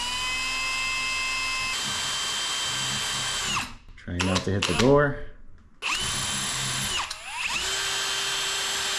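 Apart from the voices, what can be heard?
power drill driving screws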